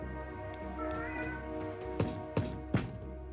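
A house cat meows softly in a room under a steady hum of game music, with a few faint sharp clicks toward the end.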